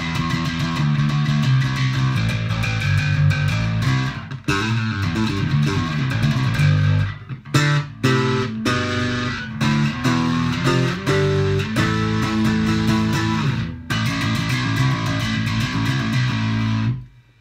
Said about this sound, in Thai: เดี๋ยวผมจะเล่นเสียงไดรฟ์ที่ยังไม่มีโมดูเลต